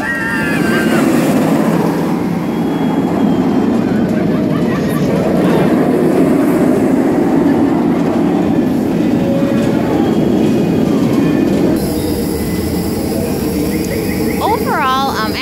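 The Cedar Point Rougarou, a 147-foot floorless roller coaster with four inversions, gives a continuous loud rumbling roar of a train on track under heavy wind buffeting. Faint whistling and crowd noise show near the end.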